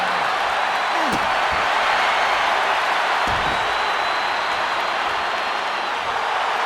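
A wrestling arena crowd applauds through a match, a steady, dense wash of clapping and crowd noise that holds at an even level from start to finish.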